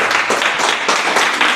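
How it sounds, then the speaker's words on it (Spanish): A church congregation claps for the Lord during a Spanish-language sermon, steady dense applause filling the short moment without a break. "¿Cuántos pueden darle un fuerte aplauso al Señor?"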